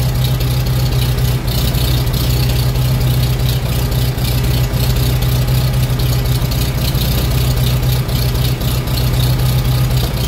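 A 1941 Farmall M tractor engine idling on choke during a cold start at 20 degrees, a loud, steady, low chugging drone that runs without a break, close up and alone.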